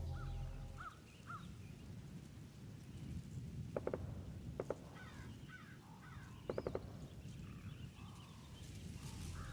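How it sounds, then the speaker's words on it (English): Crows caw in a desolate area of a Metal Gear game, a few short harsh calls rising over a low rumbling ambience, faint and somewhat distant. "All we hear from now on are the sounds of the crows and the occasional burst of gunfire."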